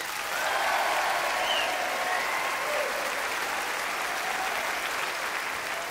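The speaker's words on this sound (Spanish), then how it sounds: "Por favor, un aplauso de nuevo a estas figuras que están aquí." A television studio audience applauds, a dense, loud wash of clapping that swells in quickly, stays full and even, and tapers slightly toward the end, with no talk over it.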